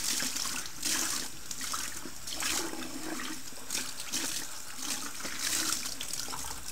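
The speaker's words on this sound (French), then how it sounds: "Alors là je lave directement à l'eau tiède." Warm water runs steadily from a tap over a tool being washed, a continuous close hiss and splash that swells and eases slightly throughout.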